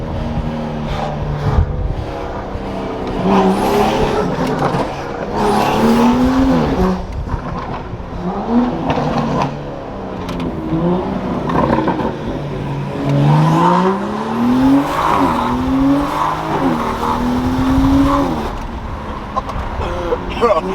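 A BMW M235i fitted with KW suspension drives hard, its engine rising and falling through the gears with tire and road noise, while people talk inside the car.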